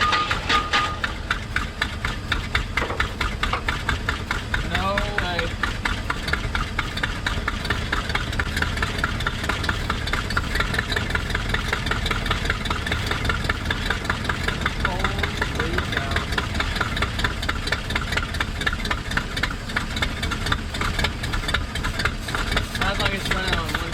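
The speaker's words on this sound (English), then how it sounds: "It runs, but it sounds like it's only running on like 3 cylinders." Long-abandoned Jeep Wagoneer engine running rough as if on only a few cylinders, an uneven loping chug with irregular knocks, loud and close, with a brief voice at times.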